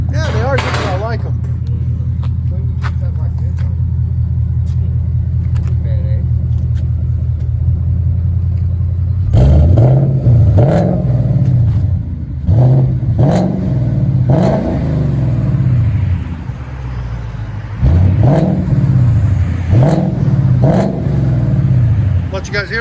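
A 2020 Ford Mustang 5.0 GT with an aftermarket exhaust idles with a deep steady rumble, then revs repeatedly in loud, throaty bursts, close up, with voices talking over it.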